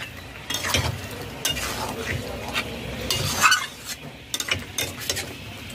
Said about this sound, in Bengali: চার মিনিট পর নাড়াচাড়া করে নেব।